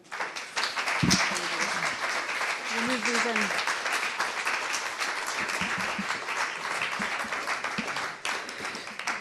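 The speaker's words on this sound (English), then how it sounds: "please give them a warm round of applause" Sustained applause from an audience at a book launch and screening event fills the whole stretch, dense and steady, with a voice briefly audible over it early on.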